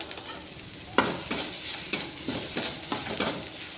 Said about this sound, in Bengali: পেঁয়াজটা সুইট কর্নটা কষানো হয়ে গেছে, এর উপরে আমি রসুনের পেস্টটা দিয়ে দেবো